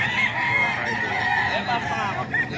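A Golden Gray gamefowl rooster crows loudly and close, one sustained crow filling the short moment with a slight break near the end.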